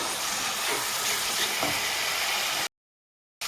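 Hot oil and spices sizzle hard as a little water is added, a loud, dense, close hiss that holds steady for over two seconds before cutting to silence.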